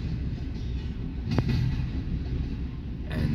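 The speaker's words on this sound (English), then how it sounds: "it's been train after train after train, as usual." A train rolls past at night in Fremont, Nebraska, a continuous heavy rumble of railcars with a sharp metallic clank partway through and rising intensity near the end, with no talk over it.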